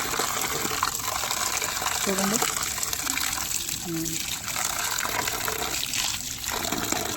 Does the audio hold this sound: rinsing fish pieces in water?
yes